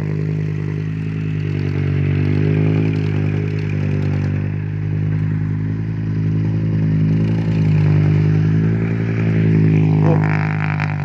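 A five-cylinder dump truck engine runs steadily nearby, a loud, deep, continuous diesel drone with slight swells in pitch and a faint clatter near the end.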